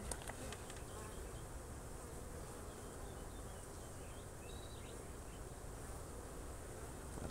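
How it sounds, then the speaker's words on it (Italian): Honeybees buzz steadily at a beehive in an apiary with colonies in production, a dense, continuous near drone of many insects with no speech over it. "c'è un'ape che sta portando via, vuol portare via un'altra ape sana"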